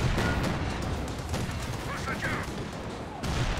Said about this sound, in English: detonates that landmine there